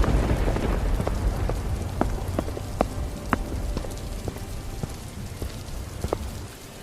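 Heavy rain pours steadily onto surfaces in a village at night, a dense continuous wash with scattered sharper drops and splashes standing out, fading slightly at the end.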